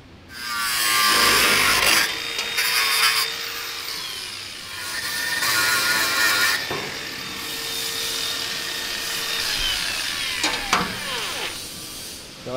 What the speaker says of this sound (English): Come back in 5 minutes once the grinder's done its magic.